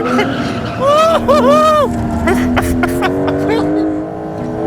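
Porsche 911 Turbo S engine droning loudly from inside the cabin during a brief drift, a steady rising engine note with short pitch swoops, partly under someone talking.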